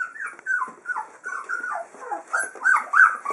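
Puppies in a whelping box whimper and whine in a steady string of high, thin cries, close and fairly loud, with a few soft yips and no talking.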